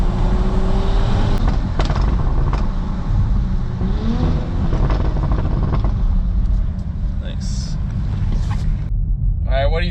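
A tuned Audi SQ5 B9 running a stage 2 034 tune, heard from close by with a loud, dense engine rumble and some revving throughout, along with voices talking over it.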